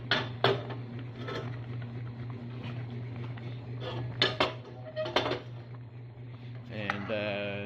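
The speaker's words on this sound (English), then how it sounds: "And so we're kind of stirring it." A spoon scrapes and clinks against a pot while stirring and mashing a thick, blackening mixture, with sporadic metallic taps over a low steady hum.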